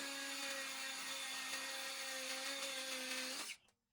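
A power drill fitted with a tile bit whines steadily at a constant high pitch for a few seconds, then cuts off abruptly into near silence.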